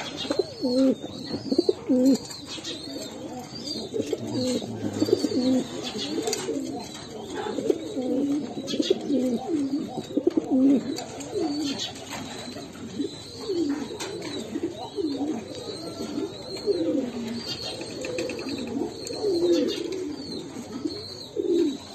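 White King pigeons coo in a dense, continuous chorus of rolling, throaty calls close by, overlapping with one another.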